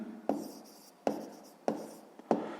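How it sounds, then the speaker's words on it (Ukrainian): Pen or chalk writing down an answer to a grade-6 math exercise: four separate short scratchy strokes, each with a sharp onset and fading tail, close and fairly quiet with no voices. "Ну що ж, записуємо відповідь."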